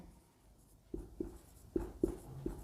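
Chalk or marker strokes on a board during a Hindi-language Class 10 biology lesson, a handful of short scratchy taps and scrapes spaced irregularly, close and fairly quiet with no talking.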